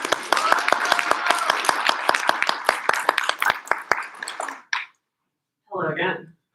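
Audience applause at a Three Minute Thesis competition heat, sharp individual hand claps over a dense clapping wash that fades out, followed by a brief silence and then a voice speaking.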